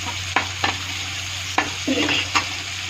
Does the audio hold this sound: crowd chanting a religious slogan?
no